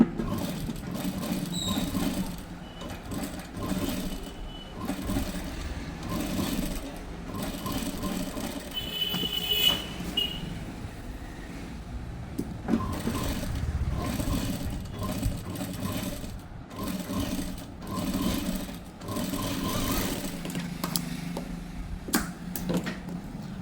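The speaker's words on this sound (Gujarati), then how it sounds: "તો ચાલો બંને પર હું મારી લઉં અસ્તર પર સિલાઈ." A sewing machine stitches the lining of a princess-cut blouse, a continuous close mechanical whirring and rapid needle clatter that runs almost without pause, with brief changes in pace.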